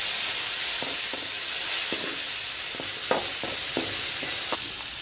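Dried red chillies, cumin seeds and fenugreek seeds sizzle loudly in hot oil with a steady hiss and scattered popping crackles, close and continuous, with no talking.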